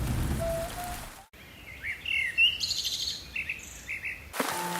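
Heavy rain pours steadily in a dense, hissing wash across the whole stretch, with brief bird chirps cutting through near the middle and a short hard break where the sound drops out.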